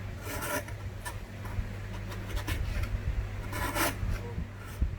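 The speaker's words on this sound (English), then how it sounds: "So just put your chisel flat and just remove the center." A wood chisel pares the cheeks of a bridle joint flat, giving repeated close scraping, rasping strokes in short bursts against a low steady background hum.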